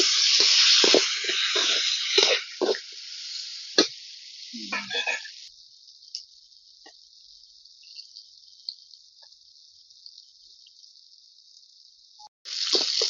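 Brinjal (eggplant) frying in a pan for roti pachadi, producing a bright, steady sizzle with a few utensil knocks early on. The sizzle then drops to a thin, quieter hiss before briefly swelling loud again at the end.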